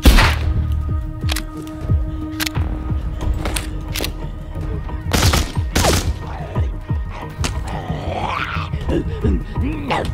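Rapid gunshots fire in the Walking Dead VR zombie game, loud, close, sharp reports in irregular bursts across the whole stretch with brief gaps between volleys.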